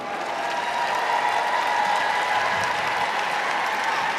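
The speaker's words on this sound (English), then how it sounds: "Big roar from the crowd." Crowd at the Westminster Kennel Club Dog Show applauding and cheering for a Bracco Italiano, a continuous dense wash of clapping and roaring from a large arena audience, steady throughout with no talking.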